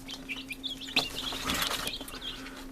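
Two young hatchling chickens flap their wings inside a cat carrier, giving bursts of fluttering and scuffling close by, with faint chirps and a steady mechanical hum in the background.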